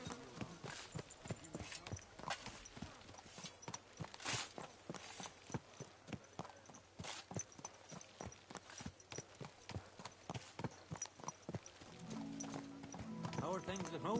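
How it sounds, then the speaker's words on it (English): Horse hooves clip-clop steadily on a road in the medieval game Kingdom Come: Deliverance II, a rhythmic string of distinct hoof strikes under frequent spoken dialogue and ambient background. "A horse like that must cost as much as a farm."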